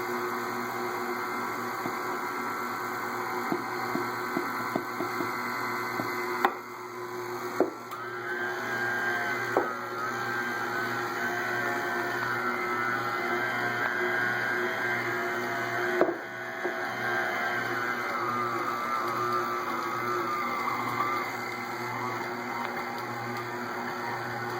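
Electric stand mixer working pizza dough as the remaining flour is mixed in, a steady whirring motor drone with a wavering whine running continuously, broken by a few knocks and clicks, with no talking.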